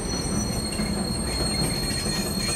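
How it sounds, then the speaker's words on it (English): A train rolls into a rail yard in a video game, with high metallic wheel squeals ringing over a low rumble of rail cars, steady and moderately loud, no voices. "Train's pulling into the rail yard."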